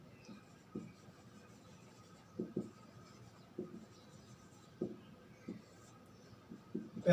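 Chalk or marker strokes on a classroom board, a series of short scratchy taps and scrapes in irregular bursts against a quiet room, with no talk.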